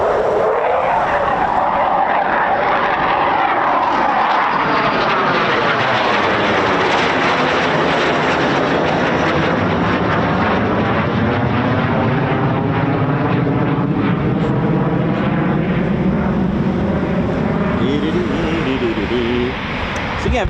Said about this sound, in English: Touch and go is really useful for pilots to get in as many practices as possible with landings